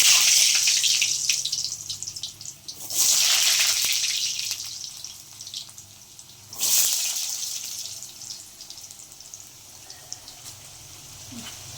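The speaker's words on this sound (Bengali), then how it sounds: "এবার আলুগুলোকে দিয়ে দেবো আস্তে আস্তে তেলের মধ্যে" Potatoes go into hot oil with two loud surges of sizzling and splashing a few seconds apart, each easing back into a softer, steady frying hiss.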